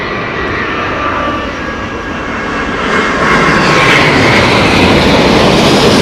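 An airplane lands at Heathrow Airport in stormy conditions: loud, steady, broadband jet engine roar, close by, with wind-like rushing noise that swells slightly louder toward the end.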